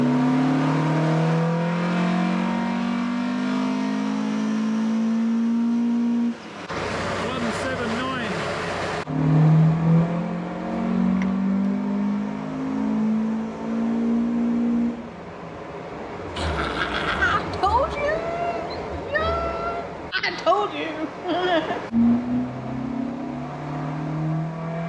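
A Mk1 Ford Escort with an ST170 engine revs hard on a dyno, a loud droning engine note rising in long sweeps, cutting off and climbing again, while people talk between and over the pulls.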